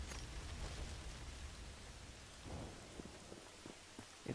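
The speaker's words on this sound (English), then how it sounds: "It's raining." Steady heavy rain with deep thunder rumbling in the video game Just Cause 3, a dense hiss throughout and low booming at the start easing into scattered soft thuds.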